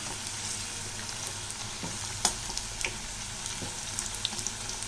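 Bonda snacks made with maida bubble and sizzle in hot oil, a steady close frying hiss with scattered pops and a few small clicks from turning them.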